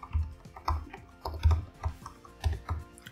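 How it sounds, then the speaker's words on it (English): Someone types on a computer keyboard, entering a line of JavaScript code: short bursts of close, crisp key clicks arrive in an uneven rhythm, with brief pauses between bursts and no talk. "let's first start off by just typing in the console log statement"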